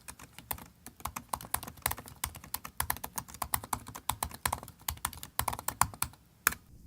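Rapid, loud clacking of a 2016 15-inch MacBook Pro keyboard being typed on steadily up close, with a brief pause in the middle, no voices.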